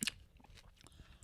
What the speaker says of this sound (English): I hope you guys are enjoying the sound of us chewing.